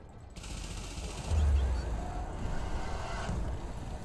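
Ship turrets firing at Thargoid scouts in a space combat video game: rapid bursts of gunfire over a low engine rumble, with a louder volley partway through.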